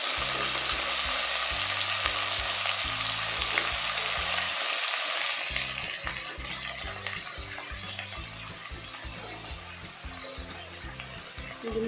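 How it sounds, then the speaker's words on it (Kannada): Chopped onion and half a kilo of sliced radish fry for Andhra-style radish sambar, a steady close sizzle with occasional stirring scrapes that drops a little in loudness partway through. "ಇದನ್ನು ಚೆನ್ನಾಗಿ ಒಂದು 5 ಮಿನಿಟ್ಸ್ ಫ್ರೈ ಮಾಡ್ಕೋಬೇಕು"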